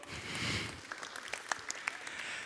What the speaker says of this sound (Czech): zatleskejte Honzovi, děkuji Honzo